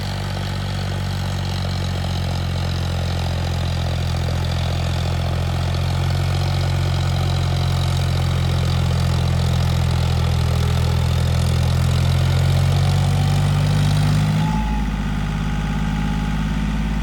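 A John Deere tractor engine running under heavy load while pulling a subsoiler, a loud, steady low diesel drone that holds for a long stretch before the pitch drops near the end.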